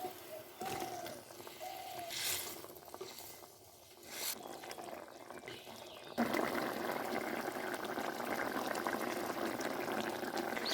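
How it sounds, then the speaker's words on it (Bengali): Curry broth with tomato and carrot bubbles in a pot on the stove, a soft steady simmering hiss that swells after a few quiet seconds, faint and close. "ঝোল ফুটে এসেছে, আমি ভেজে রাখা মুইঠাগুলো দিয়ে দেবো।"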